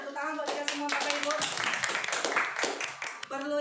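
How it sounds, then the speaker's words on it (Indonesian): Participants at an Indonesian teachers' positive-culture workshop clap together in a quick, busy burst, with a voice talking over the applause at the start and end. "Tepuk tangan buat kita semua Bapak Ibu."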